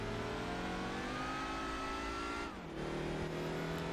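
A race car engine in Gran Turismo 4 screams at high revs, drops sharply as the driver shifts gear, then climbs again, loud and continuous with faint tyre noise underneath.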